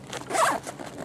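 A single quick zip as the back zipper on a Maxpedition Sitka Gearslinger bag is pulled, a short, close rasp lasting under a second in a quiet room.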